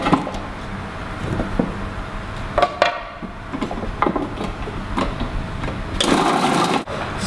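A food processor blitzes fennel and onion nearby, giving rough whirring bursts of chopping noise, with a louder surge near the end.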